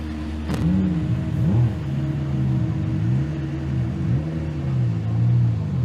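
A race car engine on a circuit hums and rises and falls in waves of revving as it gets going again, a sustained mid-distance drone with a sharp click near the start and no speech.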